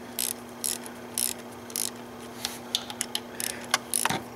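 A ratchet wrench tightening the water pump bolts on a six-cylinder BMW E46, quick bursts of close clicking ratchet strokes in short groups, with a steady low hum in the background and no talking.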